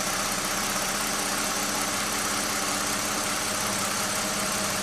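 A Toyota with 427,000 miles and a lean-running fault idles steadily up close, a dense continuous engine hum with a faint uneven rumble throughout, no voices.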